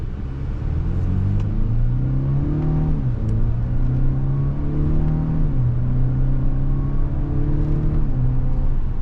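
A 2025 Acura RDX A-Spec Advance SUV engine drones from inside the moving vehicle, pitch climbing steadily then dropping at each gear change, a continuous rumble throughout.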